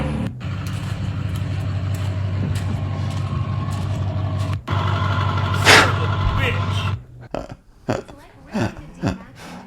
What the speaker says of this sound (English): He's just revving his D-Max